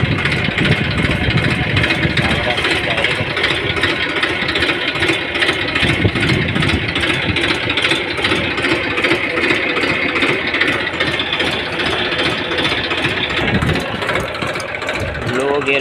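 A tractor engine runs steadily on a farm field among guava plants, a continuous loud mid-pitched drone shifting into gear, with a voice speaking over it.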